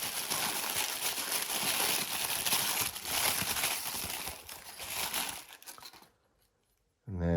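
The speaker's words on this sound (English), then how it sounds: "there's a nice part here wrapped in tissue paper." Tissue paper crinkles and rustles loudly and close up as a Lancaster bomber model part is unwrapped from it, a busy crackling that runs for about six seconds before stopping abruptly, followed by silence and then a brief rustle.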